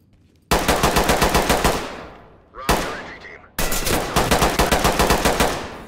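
Automatic rifle bursts hammer out in the tactical shooter Ready or Not, loud close rapid fire in three bursts with short pauses between them.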